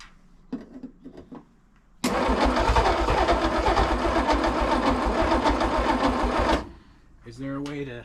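A Studebaker Wagonaire engine cranks over slowly and weakly for about four and a half seconds, loud and close, with a steady chugging starter rhythm. Voices talk briefly before and after the cranking.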